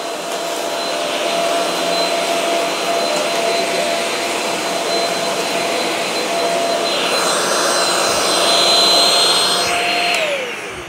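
A Shark upright vacuum cleaner runs loudly up close with a steady high whine, then its pitch drops as the motor winds down at the end.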